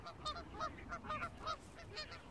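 Geese honking repeatedly outdoors in the evening near a Dutch recreation area, a steady run of overlapping calls at moderate distance over a low background rumble, with no talking.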